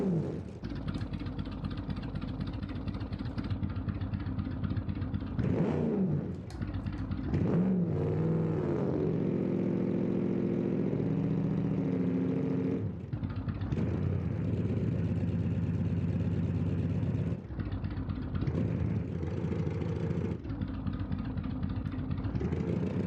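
A car's 5.5-liter V8 at a quarter-mile drag race rumbles steadily up close, with several rising and falling revs between stretches of deep idle, and no talk.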